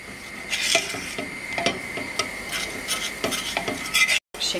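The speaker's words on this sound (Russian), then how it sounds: "Вот так хорошо мешаем." A spoon scrapes and swirls steadily against the bottom of a pot, stirring a flour roux, with a light sizzle underneath and soft repeated clinks, then a brief cutoff near the end.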